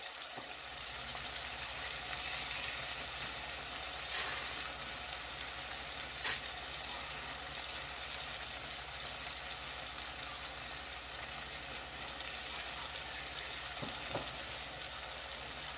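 Fish curry with okra in a pan gives a low, constant frying sizzle that holds evenly throughout, faint and steady, broken only by a couple of small clicks, with no one talking.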